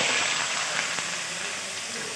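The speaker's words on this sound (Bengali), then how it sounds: "এই আলুর মধ্যে শুধুমাত্র লবণ দিয়ে ভাজি করছি" Potatoes frying in a pan with only salt, giving a steady sizzling hiss throughout, fairly close and even in level.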